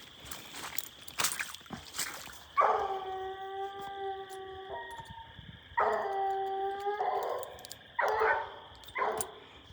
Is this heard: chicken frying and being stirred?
no